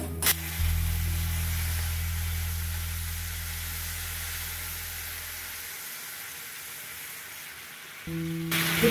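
Boiling water poured into a pan of sautéed mixture, raising a loud, steady hiss of sizzling steam that slowly fades over several seconds before a clatter at the end.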